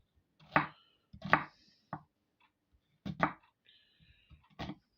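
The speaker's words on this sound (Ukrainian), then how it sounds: "Дві цибулинки ми беремо і кришимо їх дуже-дуже мілко." Two onions being finely diced with a knife on a board, a few crisp irregular chopping strokes close up and quiet, with pauses between.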